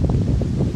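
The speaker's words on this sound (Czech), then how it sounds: "venku fouká strašný vítr" Heavy wind buffets a microphone outdoors in a steady low rumble, loud and continuous, with no talking.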